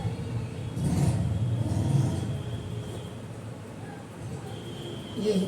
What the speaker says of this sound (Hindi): ये आवाज भी सुन रहे हैं आप मोटरसाइकिल की